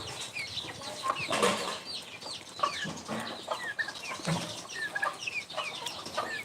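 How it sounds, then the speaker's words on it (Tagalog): Native chickens cluck and call repeatedly in the background, a busy flock nearby in a rural backyard with steady outdoor ambience and occasional wing flutters. "Maingay yung paligid kasi sa likod lang natin yung mga maraming manok"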